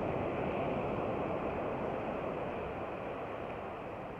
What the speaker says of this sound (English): And the music, ocean music, the wave sound,